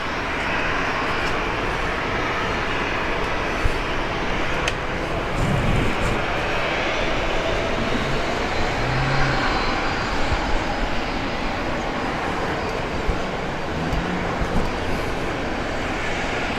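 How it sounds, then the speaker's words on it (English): Gulfstream corporate jet at Brisbane International Airport, its engines producing a loud, continuous broadband roar that holds steady throughout, heard alone without talk. "Yeah, that Gulfstream is a good looking jet."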